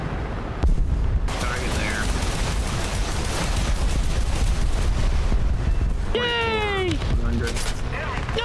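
Dense, continuous anti-aircraft gunfire and explosions from the War Thunder combat game rattle loudly and rapidly, with a player talking and shouting over the barrage.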